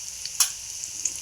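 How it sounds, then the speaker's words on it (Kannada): Chopped onions frying in hot oil for pudina bath give a steady, quiet sizzle, with a couple of brief louder crackles as they are stirred in the pan. "ಈಗ ಉದ್ದಾಗ ಹೆಚ್ಚಿಟ್ಕೊಂಡಿದ್ದು ಉಳ್ಳಾಗಡ್ಡಿ ಹಾಕೊಳತ್ತೇನೆ ನೋಡ್ರಿ."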